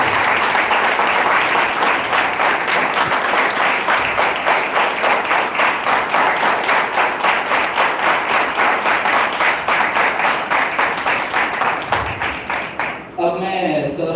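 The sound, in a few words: audience applause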